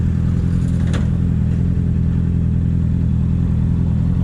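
A Honda CB 650F motorcycle fitted with a sport exhaust idles and rumbles loudly in a city street, a steady deep engine drone running throughout with no talk.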